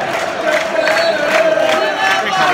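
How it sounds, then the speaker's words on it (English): Football crowd at a Gillingham vs Blackpool match rousing into a sustained, loud roar of voices and chants, steady and dense throughout with no pauses. "It's woken the crowd up as well."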